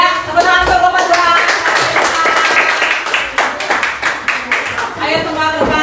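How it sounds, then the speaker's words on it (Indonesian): A classroom audience claps for the second group in a class contest, a dense, steady patter of many hands that carries on for several seconds, with voices talking and calling out over it. "tepuk tangan untuk lomba dua"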